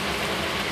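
Heavy rain from a summer storm pours down in a dense, steady hiss with no break or voices, loud and close throughout.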